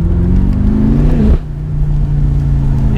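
A BMW F10 M5 Competition accelerates hard, its engine note rising loud and close with a sharp gear change partway through before pulling strongly again.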